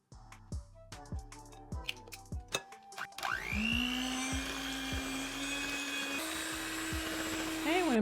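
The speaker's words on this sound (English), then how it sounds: "I'm going to mix that until combined" An electric mixer whirs steadily through muffin batter of creamed butter, sugar, eggs and vanilla, starting after a series of sharp clinks and knocks and running loud and continuous to the end.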